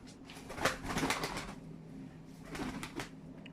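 Soft tumbler pigeon cooing in two short bursts, faint and somewhat distant, over a low steady background hum.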